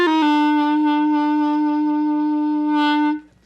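A single sustained legato note on a flute or clarinet, played with vibrato, rings clear and steady for about three seconds before fading out, alone and close.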